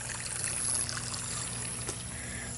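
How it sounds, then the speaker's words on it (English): Water siphoning out of a tank during a water exchange, heard as a steady, close trickle and gush of flowing water that continues evenly throughout with no voices. "Doing a water exchange here. Pretty sure it's time to stop this siphoning."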